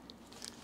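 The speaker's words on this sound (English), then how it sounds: "So I made a peanut butter sandwich here I'm eating." A single quick, crunchy bite into a peanut butter sandwich on organic sprouted wheat, oats and honey bread, soft and close with a crisp crackle as the bite finishes.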